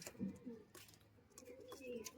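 A Madrasi pigeon at a pigeon sale coos in soft, low, repeated rolling calls close by, with faint background noise between the coos.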